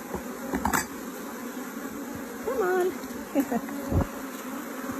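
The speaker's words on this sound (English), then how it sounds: "There's a lot of bees in this corner." Bees buzz loudly and steadily around an open top bar hive, close insect drone with a few passing louder buzzes, while a person speaks briefly.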